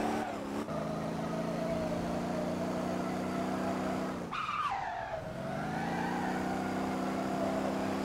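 A racing car in the Motor Town driving game holds a steady engine drone, then breaks into a loud, rough tyre squeal for about a second mid-clip before the engine tone settles and climbs again, with no voices.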